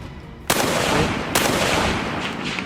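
Two loud, sharp gunshot effects burst out in succession during a Delta Green tabletop role-playing session, each blast trailing into a long rumbling decay, with no talk over them.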